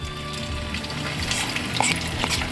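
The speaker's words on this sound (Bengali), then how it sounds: "তারপরে এখানে আমার আছে রসুন আর কাঁচামরিচ কুচি, এটা আমি দিয়ে দিলাম।" Chopped garlic and green chili sizzling in melted butter in a pan, a close, steady crackling fry with light stirring scrapes, no voices.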